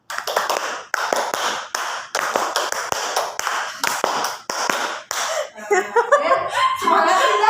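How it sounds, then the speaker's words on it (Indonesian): Classroom of students doing patterned clapping, five-beat rhythm repeated three times, sharp grouped claps in quick bursts with short pauses, followed by chuckles and laughter and loud voices. "Tepuk berpola 5 3 kali."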